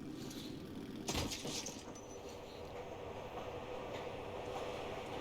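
A train in the video game Metro Last Light Redux rumbles steadily past with a sharp metallic clank near the start, followed by continuous rolling and rattling noise.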